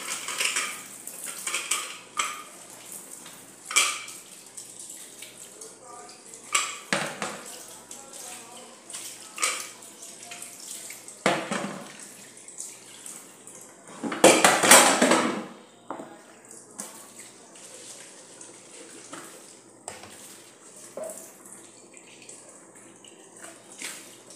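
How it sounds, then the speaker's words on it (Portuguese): Dishes being washed at a home kitchen sink, with plates, pots and cutlery clinking and knocking in scattered bursts under running tap water, one louder clattering splash midway. "o que a gente faz mais durante o dia numa casa é lavar a louça."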